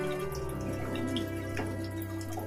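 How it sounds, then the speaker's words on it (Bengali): Water trickles into a frying Kashmiri aloo dum spice mix in a pan, a close steady drip and pour with faint sizzling and a background hum, no talk over it. "এতে আমি একটু জল অ্যাড করলাম, যাতে মশলাটা লেগে না যায়।"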